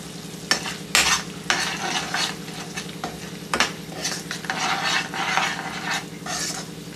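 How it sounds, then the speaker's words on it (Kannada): A spoon scrapes and stirs a thick puliyogare mixture frying in a pan over a low flame, with steady sizzling and a few sharper knocks against the pan. "ಈಗ ಇದನ್ನ ಲೋ ಫ್ಲೇಮಲ್ಲೇ ಹುರ್ಕೊಳ್ಳೋಣ. ಇದು ಸ್ವಲ್ಪ ತಿಕ್ಕಾಗೋ ತನಕ ಇದನ್ನ ಹುರ್ಕೊಳ್ಳೋಣ."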